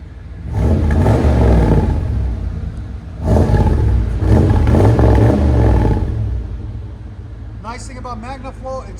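A 1995 Chevy 1500 pickup with a 5.7L V8 and Magnaflow exhaust revs loudly twice in quick succession, a deep roaring exhaust swelling and falling away before a voice talks briefly at the end.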